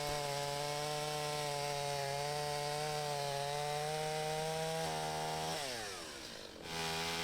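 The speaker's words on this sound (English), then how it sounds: "This little 45cc saw is really great for cutting bowl blanks." A 45cc chainsaw engine drones loudly and steadily, its pitch dipping briefly as it bogs into a cherry log, then revving back up.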